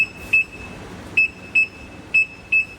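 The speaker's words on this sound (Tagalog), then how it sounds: "It's gonna emit a sound, beep sound." An MH79 anti-theft alarm on a Honda Wave motorcycle gives a series of short, sharp electronic beeps. There are about six chirps at uneven intervals, and they ring out clearly with no talking.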